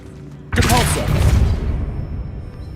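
A Depulso force-push spell cast in Hogwarts Legacy: a sudden loud whooshing blast with a booming low thump, followed by a long fading rumble and debris-like tail, alone without talk.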